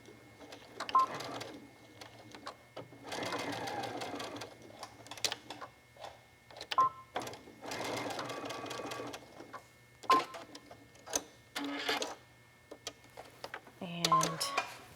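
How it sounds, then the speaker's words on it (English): A sewing machine stitches the corners of a sturdy fabric bag handle in several short runs of rapid mechanical chatter, with pauses and quiet clicks between them. "So we go back to the machine, we're going to stitch these 2 corners."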